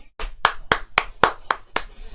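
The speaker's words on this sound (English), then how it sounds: "Round of applause break" Seven sharp, evenly spaced hand claps ring out close and clear, slowing slightly toward the end, with no voices, as a small round of applause during a casual podcast break.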